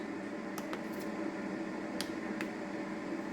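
A Ninja Speedi air fryer running on air crisp gives a steady fan whir and hum with a few faint ticks and clicks near the start, and no talk.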